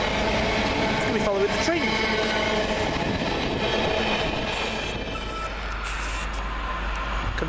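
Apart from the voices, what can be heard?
Pendolino train passing, heading to London Euston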